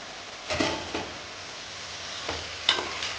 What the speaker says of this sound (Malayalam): അതിനുശേഷം നമ്മൾ വൃത്തിയാക്കി വെച്ചിരിക്കുന്ന മട്ടൺ മട്ടനും കൂടെ ചേർത്ത്